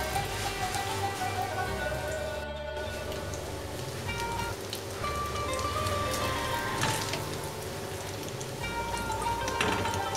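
An egg-coated sandwich fries in a hot pan, a steady, dense sizzle and crackle with a few louder pops, heard close and alone.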